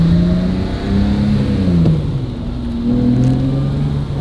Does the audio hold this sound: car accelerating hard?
yes